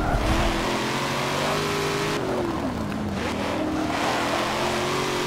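A 2017 Camaro ZL1 race car engine in Forza Motorsport 7 roars steadily, its pitch rising and dipping as it accelerates and shifts, loud and continuous with no talking.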